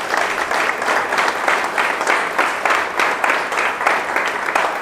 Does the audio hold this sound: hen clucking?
no